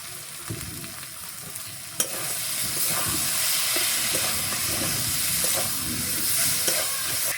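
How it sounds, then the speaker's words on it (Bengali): Potato and soybean pieces sautéing in a pan with water, a steady close sizzle and hiss with occasional stirring scrapes and clinks, continuous and fairly quiet, no talking. "আলু আর সয়াবিন ভালো করে কষানি হয়ে গেছে"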